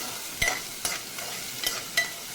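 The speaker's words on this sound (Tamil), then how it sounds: "ஆனியன் போட்டு நல்லா டோஸ்ட் பண்ணிக்கிறேன்" Onion frying in coconut oil with mustard seeds and fenugreek, a soft continuous sizzle broken by four sharp scraping stirs of a spatula against the pan, close up with no voices.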